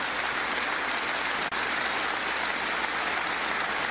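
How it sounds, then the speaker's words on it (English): An audience's team round of applause at the Flagship Enterprise Center in Anderson, Indiana: steady, dense clapping filling the room for the full stretch with no talking. "give Chuck Staley and the whole Flagship Enterprise Center a team round of applause"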